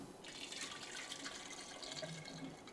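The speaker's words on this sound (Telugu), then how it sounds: "సో మనం వాటర్ యాడ్ చేద్దాం కావాల్సినంత" Water pours steadily into a clay pot holding Ugadi pachadi ingredients, a continuous soft splashing trickle heard close and faint, with no talk over it.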